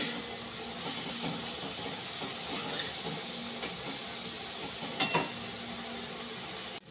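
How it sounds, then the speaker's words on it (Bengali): Spice paste with salt frying in a pan, a soft steady sizzle and hiss with a few faint clinks of stirring. "কষিয়ে নিই মশলাটা।"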